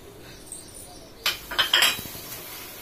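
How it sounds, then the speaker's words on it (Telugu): A spoon stirs coffee in a cup in a home kitchen, making a quick cluster of bright clinks and scrapes against the cup after a quiet start, then settling down. The sounds are close and fairly soft. "కాఫీ కలుపుకుంటున్నానండి"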